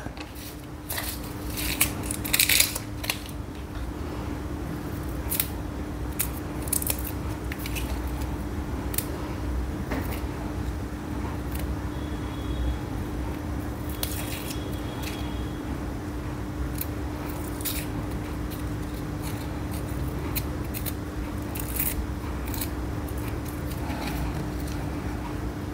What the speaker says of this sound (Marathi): सर्वात प्रथम आपण कांदा टोमॅटो कापून घेऊया।